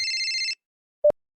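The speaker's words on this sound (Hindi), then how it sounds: "फोन बजता है।" A telephone rings with a short burst of bright, steady electronic tone that cuts off, followed by a brief click about half a second later.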